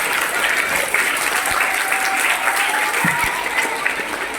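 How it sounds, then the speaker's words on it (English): Loud, sustained applause from a school audience at an inter-house orchestra competition for grades 3 to 5, a dense wash of many hands clapping continuously throughout with no pause. "thunderous round of applause."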